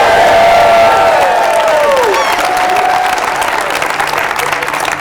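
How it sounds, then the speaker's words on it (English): Audience at the Upfront Summit 2018 applauding and cheering for Snoop Dogg, a steady, loud crowd roar with whoops and a rising whistle-like shout, sustained throughout. "Make some noise for Snoop Dogg."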